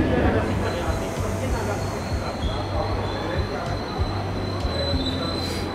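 Train sounds on a station platform at Salzburg, Austria, with a steady low rumble of rail cars and faint wheel squeal throughout, busy platform ambience continuing without a break.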